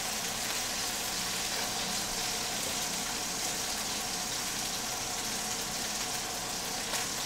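Chicken pieces, including a leg, crisping in a pan, giving a loud, steady broadband sizzle and crackle of hot oil that holds throughout with no talking.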